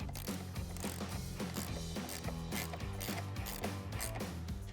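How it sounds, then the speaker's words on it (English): Ratchet with an 11mm socket tightening the battery terminal posts on a 2015-2017 Ford F-150, a fast steady series of close mechanical clicks running throughout. "Using your 11mm socket, you want to loosen your posts and slide your connectors in and tighten them back down."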